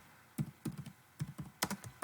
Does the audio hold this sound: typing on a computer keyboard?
yes